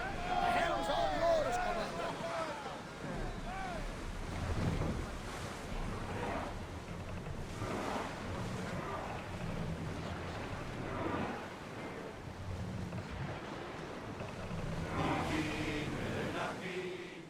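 Greek ship sailing on the open sea in Assassin's Creed Odyssey, a steady wash of waves and wind with creaking hull sounds throughout, while voices talk over it.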